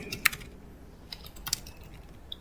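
Soft keystrokes on a computer keyboard while a name is typed into Java code, a few quiet scattered taps with brief pauses, faint and close, no voices.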